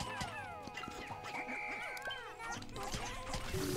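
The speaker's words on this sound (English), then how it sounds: "Yeah, I'm smashing the wall" Pikmin smashing a wall in Pikmin 3 Deluxe: a busy stream of small repeated thwacks and chirpy creature cries over game music, with no talk.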